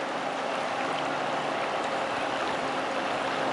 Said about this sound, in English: there's like debris floating by and the current is very strong